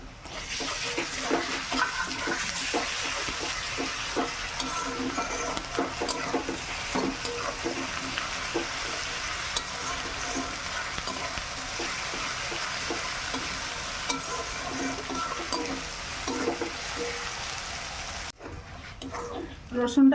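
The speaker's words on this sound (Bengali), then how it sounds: "পেঁয়াজটা ভাজা হয়ে গেছে, আমি এবার রসুনটা দিয়ে দিলাম।" Garlic hits a pan of browned onions in a village kitchen, a dense, steady sizzle with repeated scraping stirs carrying on close up until it cuts off near the end.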